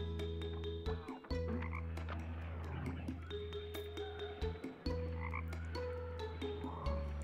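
Frogs croak in the video game Two Point Hospital, loud repeated calls in rapid bursts over a steady tonal drone, with a few short gaps.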